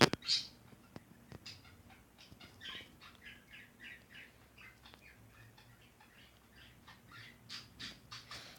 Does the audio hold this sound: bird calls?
yes